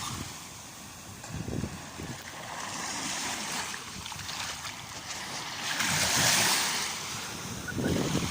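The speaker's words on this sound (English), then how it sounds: "Nice little splash there." Small waves wash and splash along a seashore at low tide, a steady surf hiss swelling into one louder splash near the end, with wind buffeting the microphone.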